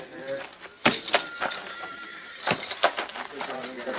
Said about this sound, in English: Look yonder, riding that horse.